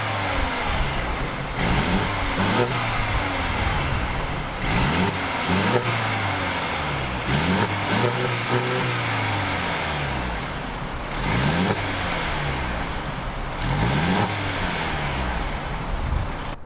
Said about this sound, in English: Let's start up the 2-liter 4-cylinder motor of the C300 and hear how that exhaust note sounds.